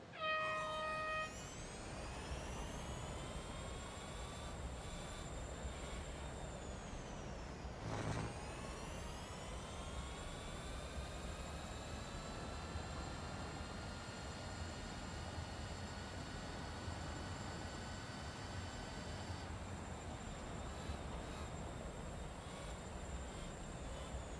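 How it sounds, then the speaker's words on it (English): A continuous high-pitched race car engine whine in Real Racing 3, with rising and falling tones, steady and droning, shifting pitch like gear changes, with no talking. "It always feels like you're on a plane landing this car. It's that sort of noise."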